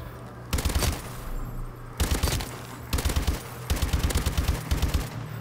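Bursts of rapid automatic gunfire from a newly unlocked gun in a first-person shooter, four loud volleys separated by short pauses over steady background game ambience.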